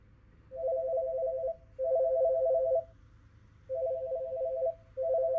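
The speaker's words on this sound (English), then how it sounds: "Can you hear the phone ringing?" A telephone rings in four evenly spaced trilling bursts, clear and fairly close, with quiet pauses between them.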